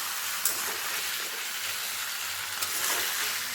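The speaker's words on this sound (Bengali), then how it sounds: "কিন্তু আমি আলুর মধ্যে একবারে কষাচ্ছি" Potatoes sauté with ginger, garlic and chili paste for aloo dum, giving a soft, steady sizzling hiss with a couple of slightly louder spits, close and otherwise quiet.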